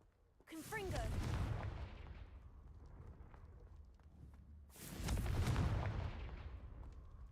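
Two Confringo blasting-spell casts in the Hogwarts video game, each a sharp explosive burst with a rumbling tail, the first near the start and the second about four seconds later, separated by quieter ambient game sound.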